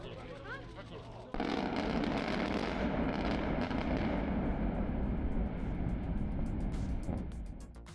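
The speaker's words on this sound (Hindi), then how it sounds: "जून 2019 में उसे बारूद लगाकर पूरी तरह से उड़ा दिया गया" Explosive demolition of the remains of a collapsed highway bridge in Italy: a sudden heavy blast followed by a sustained rumbling roar of falling structure for several seconds, fading slightly at the end, with voices faintly underneath.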